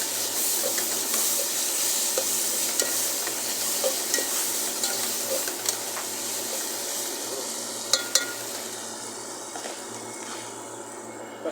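Ingredients sauté in a pan with a continuous moderate sizzle and intermittent spatula scrapes and clinks, heard close up with no talking.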